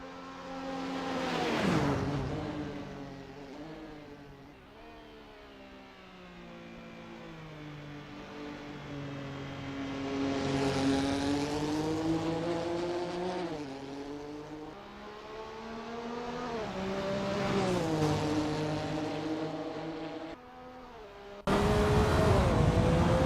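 Porsche 962 C race car in Assetto Corsa on a practice out lap, its engine loud and close, revving up and down through repeated gear changes with steady harmonic whine and a sharp burst near the end.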